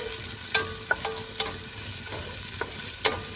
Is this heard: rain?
no